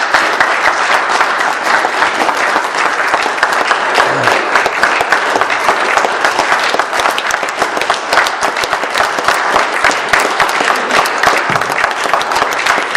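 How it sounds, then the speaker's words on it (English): Sustained applause fills a room at a Cherokee Village, Arkansas city meeting, a thick, steady wash of many hands clapping for the whole stretch. "I don't need all that applause, I tell you."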